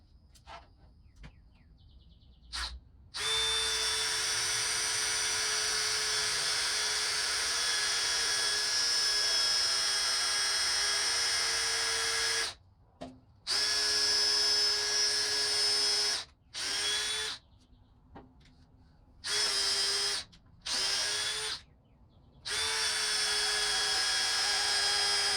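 A power drill boring through a knot in wood on a homestead project, running in several sustained bursts with short pauses between them, loud and close.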